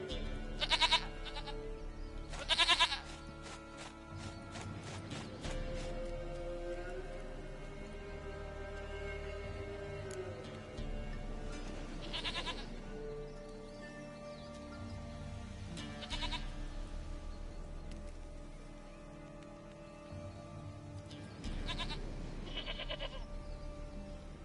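Goat bleats from The Witcher 3 sound over steady game music and ambience, with several loud bleats early on and further calls spread through the scene.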